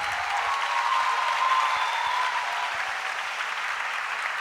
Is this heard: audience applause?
yes